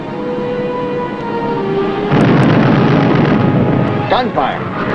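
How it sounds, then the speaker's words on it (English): A loud, sustained burst of booming and crackling naval gunfire from a submarine engagement erupts partway through, with a noisy rumble continuing and distant voices faintly underneath. "Gunfire."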